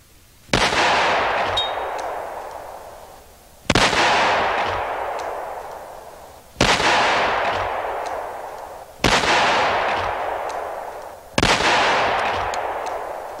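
Five loud, close gunshots from full-power 185 grain jacketed hollow point loads, evenly spaced about three seconds apart, each sharp crack followed by a long fading echo.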